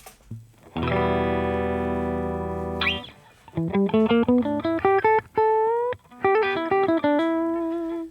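A distorted electric guitar played with a 1.5 mm pick holds a sustained chord, then plays a quick run of single picked notes, loud and close with no talking.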